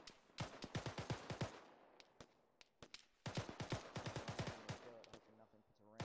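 Repeated bursts of rapid gunfire from a military simulation battle in ARMA 3, sharp cracks fired in quick clusters with short pauses between volleys, some shots more distant, voices talking faintly underneath.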